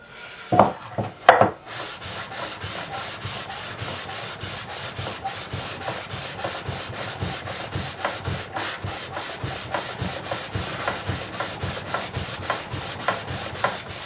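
A sanding beam strokes back and forth along a Made in Japan Schecter guitar's fretboard, a steady rhythmic rasping of roughly three strokes per second, close and continuous after a couple of initial knocks.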